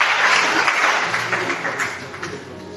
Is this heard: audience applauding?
yes